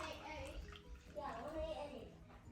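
Warm microwaved milk is poured into a cup in a steady, continuous liquid trickle lasting the whole moment, fairly faint, with a soft voice murmuring underneath.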